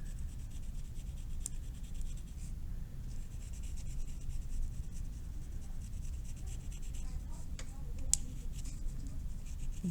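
Coloring pencil or marker strokes on paper, a steady soft scratching and rubbing that runs close and continuous, with a couple of sharper taps along the way.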